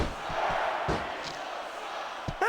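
Wrestling arena crowd in the SmackDown vs Raw 2006 video game reacting with a broad, steady roar and a few shouts, sustained for a couple of seconds with a sharp burst near the end.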